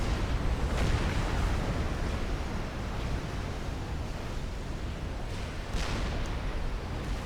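Mavor artillery in a Supreme Commander: Forged Alliance 4v4 ladder match keeps firing: a continuous heavy, rumbling battle roar with a few louder booming swells, dense and steady throughout, with no voices.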